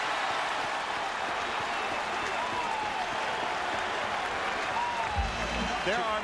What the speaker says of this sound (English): Clear from the applause.